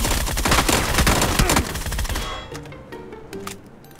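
Rapid automatic gunfire in a shooter video game, dense loud bursts that stop partway through, followed by a few sparse clicks and shots.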